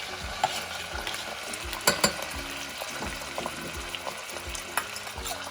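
Chopped vegetables for a spicy vegetable khichdi are stirred in a sizzling pan, with a steady fry hiss, repeated scraping strokes in an even rhythm and a few sharper clatters, close and moderately loud with no talk.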